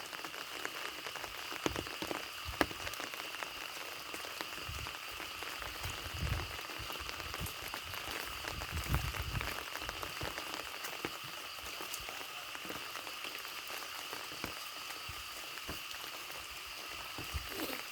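Steady, dense rain pours down without a break, a constant hiss of drops hitting surfaces at moderate distance.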